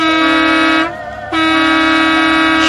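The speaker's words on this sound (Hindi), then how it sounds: "तभी सामने से हॉर्न मारते हुए एक बस आई" A bus horn sounds two loud, sustained blasts at close range, separated by a short gap, with no voices over them.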